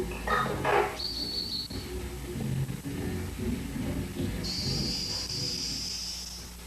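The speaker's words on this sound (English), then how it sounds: "That's birds." Birds in the Greylock horror video game give a few short high chirps and a sustained thin whistling call over a low, faint ambient hum.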